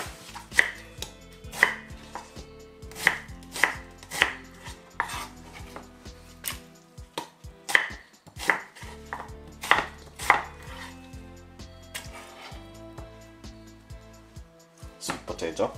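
Knife chopping a white onion on a cutting board for a mixed vegetable soup, with close, crisp, irregular thuds repeating every second or so, moderately loud against a quiet kitchen background.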